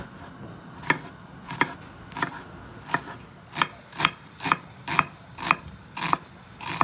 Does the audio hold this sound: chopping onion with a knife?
yes